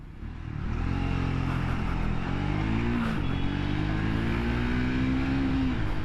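A Triumph Speed T4 motorcycle engine drones steadily while riding, its pitch rising through the revs and dipping briefly at each gear shift, heard close with wind noise.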